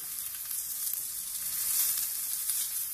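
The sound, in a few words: egg cooking in a pan for a French crepe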